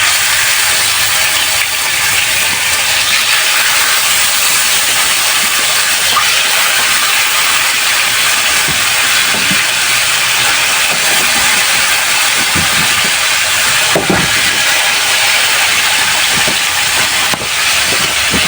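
A fish going into a hot pan for home cooking gives a loud, steady hiss of sizzling oil that fills the whole stretch, with faint clinks now and then beneath it.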